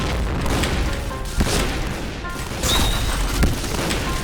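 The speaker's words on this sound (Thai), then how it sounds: "ใครปาระเบิดมา" Dull booming grenade blasts go off amid continuous rattling gunfire and clatter in a Point Blank video game battle, with a sharp thud standing out.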